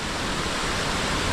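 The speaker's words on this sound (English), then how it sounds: "Virgin Creek Falls" Virgin Creek Falls, a waterfall in Alaska, gives off a steady, loud rushing roar of falling water, constant and unbroken with no voices.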